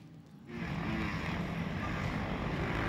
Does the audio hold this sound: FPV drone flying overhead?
yes